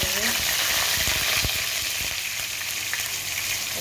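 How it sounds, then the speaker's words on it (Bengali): Dried red chilies and whole cumin seeds frying in hot oil while being stirred, a steady close sizzle with scattered crackles and spoon scrapes, no talking. "এখানে দিব একটু লাল মরিচ, শুকনো মরিচ, আর হলো জিরা, আস্ত জিরা দিয়ে নাড়াচাড়া করে নিয়ে"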